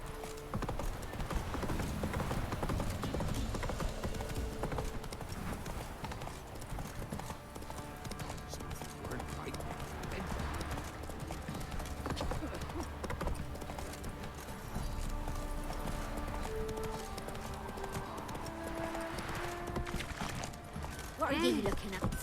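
Roach, Geralt's horse in the video game The Witcher 3, trots with steady clip-clop hoof beats under ambient music, with a brief whinny and a short line of speech.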